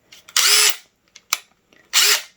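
A DeWalt DCF840 20-volt brushless impact driver spins freely in two loud, sustained bursts with short, sharp trigger blips between them, heard up close with no talking.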